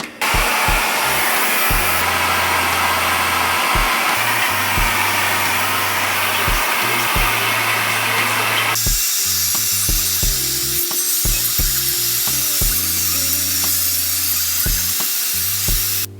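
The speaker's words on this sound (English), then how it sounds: "go in with your blow dryer underneath with the diffuser attachment" A loud, steady hair dryer blows continuously with a diffused, whooshing airflow, its pitch shifting slightly midway as it is moved around.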